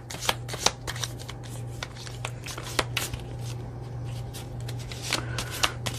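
Circular tarot cards being shuffled by hand, a steady run of crisp riffling snaps and soft slides close up, with a low steady hum beneath and no talking.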